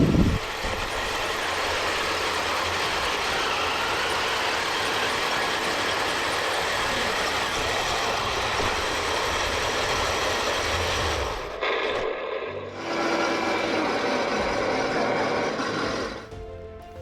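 A 1/16 scale RC Hellcat WW2 tank destroyer drives on a test run with a loud, steady motor and track drone that briefly dips near the end before surging again.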